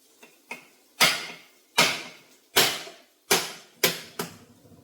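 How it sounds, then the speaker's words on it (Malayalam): A series of sharp, hard knocks strikes a coconut, about seven blows in quick uneven rhythm, close and loud, the later hits heavier. "ഇപ്പൊ നമുക്ക് തേങ്ങ പൊട്ടിക്കാം"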